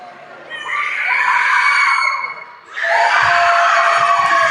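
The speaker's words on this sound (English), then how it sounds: "That crowd is loud." A crowd at a basketball game screams and cheers loudly and constantly, with one brief dip before the roar surges back even louder.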